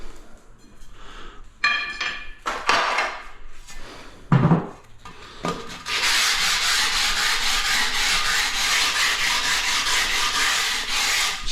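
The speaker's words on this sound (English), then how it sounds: "It's just a light sand like that." Steady hand sanding with an abrasive on the sharp edge of a ceramic tile during tiling, a continuous rasping rub that runs several seconds after a few scattered knocks and clinks, close and fairly loud with no talk.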